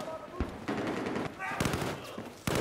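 Rapid gunfire in the video game Battlefield 4, a string of loud sharp shots and bursts at uneven intervals, some close and some further off, with a player's voice talking over parts of it.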